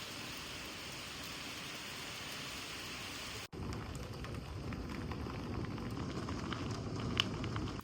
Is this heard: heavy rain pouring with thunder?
yes